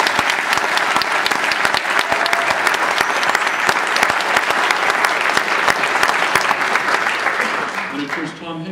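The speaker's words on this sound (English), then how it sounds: "So let's give him a round of applause." Sustained applause fills a theater at an honor band concert, dense, loud clapping from a large audience that fades slightly at the end.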